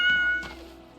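A single cat meows once, close and clear, a short tonal cry in the Skyrim video game, fading into quiet background hum.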